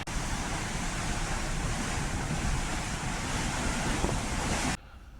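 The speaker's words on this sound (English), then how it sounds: "Right, I'm here out on deck. It's a nice breezy day today, and this is the view I can see." Steady breezy wind and open sea wash across a cruise ship deck on the Queen Mary 2 at sea, a loud continuous roar of surf and wind buffeting that cuts off abruptly near the end.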